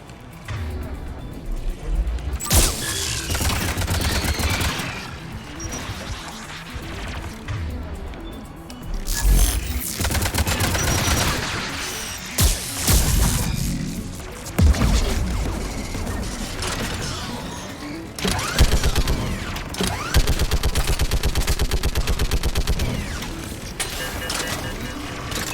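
Automated turrets firing in the Mass Effect video game, with repeated bursts of loud mechanical gunfire and clanking impacts spread across the scene, without any talk.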